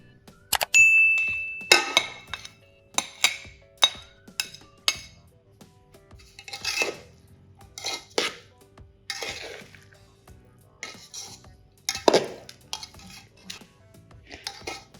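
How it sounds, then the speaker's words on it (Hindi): Shredded chicken for shami kabab being stirred back into a pan with a metal utensil, giving sharp scattered clinks and scrapes against the cookware in irregular bursts, close up with no talk. "अब चिकन के जो आपने रेशे किए थे आप अब इसके अंदर वापस मिक्स कर देंगे डाल के।"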